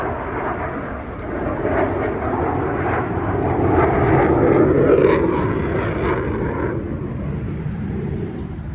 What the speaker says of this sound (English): Fighter jet, sorry about that.